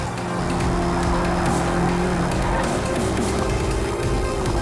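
A BMW M5 Competition all-wheel-drive sedan drives a fast lap on a track, its engine roaring loudly and steadily at high revs, close and continuous with no talk.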